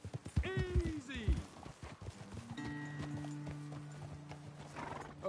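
Horses in the Red Dead Redemption 2 video game clop over the ground and whinny sharply twice near the start, then hooves settle under a sustained droning tone and faint rustling.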